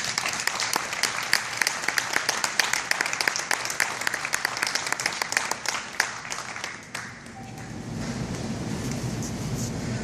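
Crowd claps steadily at a Walmart store grand reopening, a dense, lively round of applause for seven seconds before fading into murmuring room noise.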